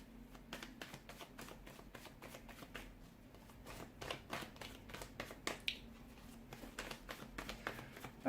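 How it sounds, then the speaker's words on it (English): Tarot cards being shuffled up close, a steady run of crisp riffling flutters and soft slaps that continue evenly with no voices. "it just feels like the cards are flying out."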